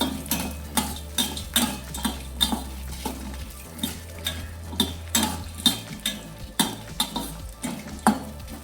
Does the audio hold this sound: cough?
no